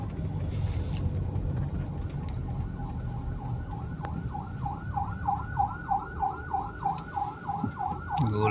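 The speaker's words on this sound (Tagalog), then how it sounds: "Gulat ako sa ambulansya guys." An ambulance siren yelps in a rapid, repeating rising-falling pattern, growing louder as it approaches over the rumble of street traffic.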